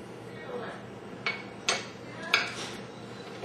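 Metal dough hook clinking onto a KitchenAid stand mixer: a few sharp metallic clicks and clanks, close and fairly quiet, spaced irregularly over a soft background.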